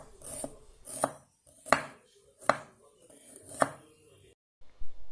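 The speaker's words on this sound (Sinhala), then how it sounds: "මේ කෑල්ල අයින් කළා මේ විදිහට හොඳට ලුණු එළිය කපා ගන්න" Winged bean being chopped with a knife on a board in a home kitchen, five sharp, separate cuts spaced about a second apart, close and clear against quiet.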